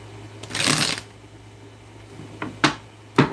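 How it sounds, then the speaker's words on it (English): Tarot cards are shuffled, with a fuller riffling burst near the start and then two short flicks near the end, fairly close against a quiet background with a low hum. "I shuffle the cards the wrong way."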